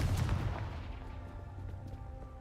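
In Hogwarts Legacy, a Confringo explosive spell goes off as a single loud booming blast at the start, then rumbles and fades over a couple of seconds.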